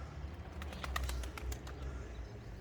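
Young chicks in a nest give rapid high chirping calls in quick repeated bursts over low rumbling background noise, with no talking.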